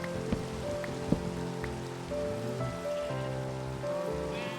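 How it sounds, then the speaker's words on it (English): Steady rain in Minecraft, a dense, even hiss of drops with a few brief clicks on top, constant and close throughout. "Oh, the rain is so noisy."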